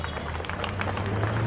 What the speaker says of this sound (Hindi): जोरदार तालियों से ऐसे कलाकार का स्वागत कीजिए दोस्तों